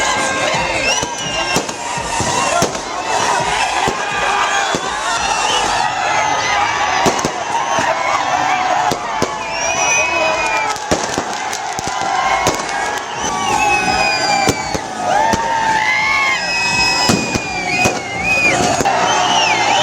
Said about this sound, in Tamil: நாடு முழுவதும் கிரிக்கெட் ரசிகர்கள் இனிப்புகள் வழங்கியும் பட்டாசு வெடித்தும் உற்சாக கொண்டாட்டத்தில் ஈடுபட்டனர்.